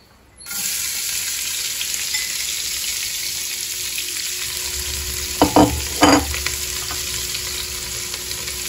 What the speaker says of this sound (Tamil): இப்போ எல்லாத்தையும் இதில் போட்டு வதக்கிறேன்